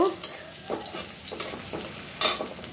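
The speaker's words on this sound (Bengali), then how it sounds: "দেখো, পেঁয়াজটা ভেজে নিব" Onions frying in a pan in oil, a steady close sizzle with a few brief scraping clicks of stirring, no talking.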